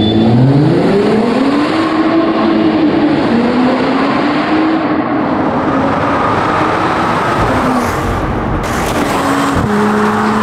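A Mercedes-AMG E 53 4MATIC+ Coupé accelerating hard, its engine rising in pitch through several gears with brief dips at the shifts, loud and close with a continuous roar and road noise.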